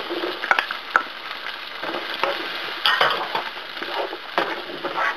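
Garlic, tomatoes and onion sauté in a pan for pinakbet, with a steady close sizzle and scraping, clinking stirring strokes against the pan.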